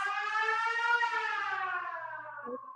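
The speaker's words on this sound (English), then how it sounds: "and sirens" Civil-defense-style siren wailing in a single continuous tone that slowly falls in pitch, clear and alone at moderate volume, with a faint low hum underneath.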